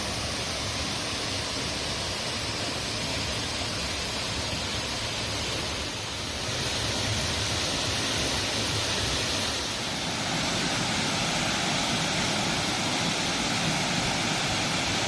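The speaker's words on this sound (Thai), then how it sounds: "น้ำตกที่นี่มีขนาดไม่สูงมาก และมีลักษณะกว้าง ไหลผ่านลานหิน" Tat Ton waterfall in Chaiyaphum, Thailand, a low, wide fall spilling over rock terraces, roars in a dense, steady wash of rushing water, loud and continuous throughout.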